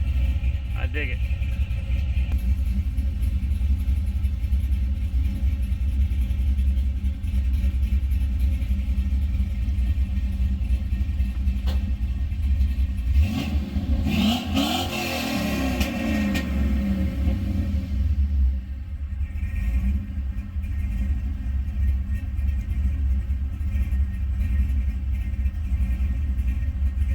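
A 1984 K10 truck's swapped LS V8 engine, untuned and with a new exhaust, rumbles at idle, then revs up once with a swelling roar before settling back to a low burble.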